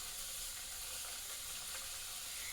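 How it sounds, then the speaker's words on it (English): Potatoes fry in a pan, giving a soft, steady sizzle and hiss of hot oil that stays even throughout, quiet and close, with no talking. "Let them fry really well on one side before you turn them over."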